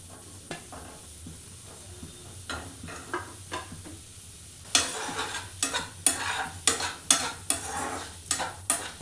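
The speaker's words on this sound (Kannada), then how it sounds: "ಪನ್ನೀರ್ ಒಂದು ಸ್ವಲ್ಪ ಕಲರ್ ಚೇಂಜ್ ಆಗಬೇಕು, ಅಲ್ಲಿವರೆಗೂ ಇದನ್ನು ಫ್ರೈ ಮಾಡ್ಕೊಳ್ಳೋಣ" Paneer fries in butter in a pan while a spatula stirs it, at first with sparse scrapes and then with a quick, regular run of loud, close scraping strokes over a low sizzle.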